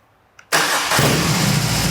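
Silence, then a BMW R18 boxer motorcycle engine cranks and catches abruptly, settling into a loud, steady idle right up close.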